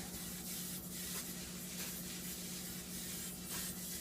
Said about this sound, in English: I'm just going to spray again with this sunflower oil spray